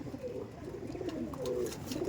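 Pigeons coo softly in a loft, low rolling calls repeating steadily over a dense background of more birds and faint rustling, with no talking.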